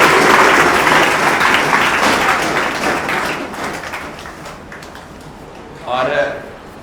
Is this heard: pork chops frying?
no